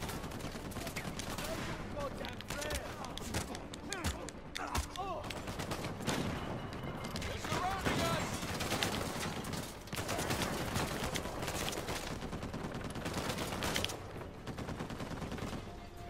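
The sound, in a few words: massive turrets firing in the video game Uncharted 4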